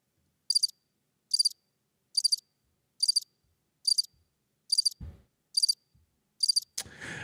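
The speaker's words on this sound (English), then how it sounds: "Do we have a cricket sound? I'm sure we have a cricket sound." A cricket chirping sound effect: eight evenly spaced, bright trilled chirps pulsing about once a second, clear and alone, then a brief thump and a burst of noise at the end.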